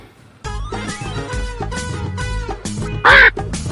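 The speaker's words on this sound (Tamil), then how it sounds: "இங்க ஒரே காக்காவா சுத்திட்டு இருக்கே" Crows circle around food set out to dry, giving a close chorus of repeated harsh, overlapping caws, then one louder, shriller call near the end.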